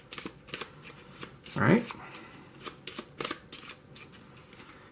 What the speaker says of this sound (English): Shuffle this up.